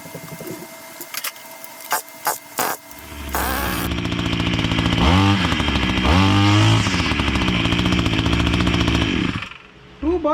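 Wild Badger 26cc gas string trimmer, a few sharp knocks and pull-start rattles, then the two-stroke engine catches and runs loud and close, revving up and down for several seconds before cutting off.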